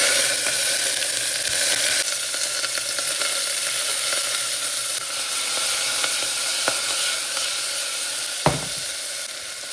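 Corn and peas sizzle loudly in hot oil tempered with hing, a bright continuous hiss and crackle up close, with a brief clack of a utensil near the end.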